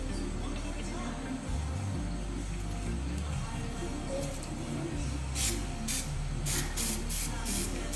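Black hair spray from an aerosol can, a steady hiss running under the hum of a room, ending in several short bursts of spray.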